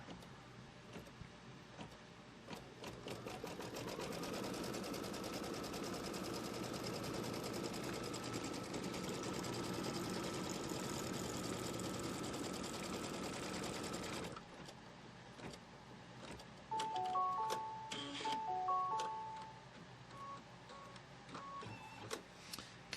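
An embroidery sewing machine stitches fast and steadily for about fourteen seconds, tacking down quilt fabric, then stops, leaving quiet handling sounds and a few soft electronic beeps.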